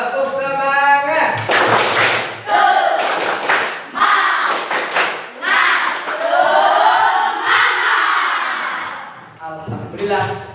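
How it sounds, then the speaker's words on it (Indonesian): Students in a religious education class do the 'tepuk semangat' clapping chant, bursts of rhythmic claps and thuds under loud group chanting, close and energetic throughout. "Tepuk semangat"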